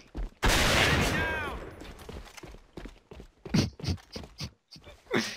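Gunfire in the online shooter A.V.A bursts out loud and dense for about a second, then returns as scattered shorter shots and clatter across the remaining seconds, with some faint game sounds mixed in.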